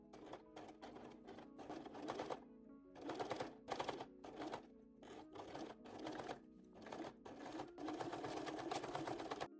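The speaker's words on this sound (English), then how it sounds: "As I am sewing the waistband in place, I will also continue down the length of the zipper and do a top stitch to finish." A sewing machine runs in repeated bursts of rapid stitching with short pauses in between while top stitching the waistband of a skort along the length of a zipper.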